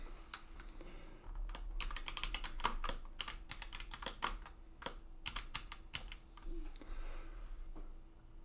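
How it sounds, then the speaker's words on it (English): Close, crisp keystrokes on a computer keyboard as tag text is typed into a Plex home media setup, coming in quick irregular bursts with short pauses between and no talking. "So I type Look Here Dad,"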